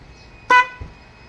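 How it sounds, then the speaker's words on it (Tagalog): A single short, loud car horn blast, powered through a circuit tester, sounds close by, followed by a faint thump, against a quiet background. "lakas ng busina lakas ng tunog"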